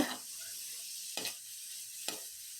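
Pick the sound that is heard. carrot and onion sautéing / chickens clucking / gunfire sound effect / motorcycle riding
carrot and onion sautéing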